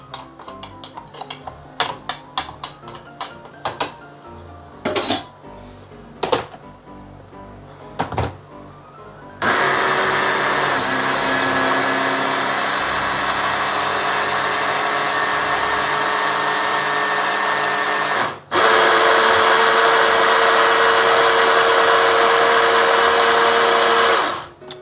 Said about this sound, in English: And blend it a bit more.